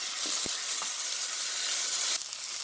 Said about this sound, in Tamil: அடுத்தா நான் இப்போ வட்டி வச்சுக்க தக்காளி பழம் போடுறேன்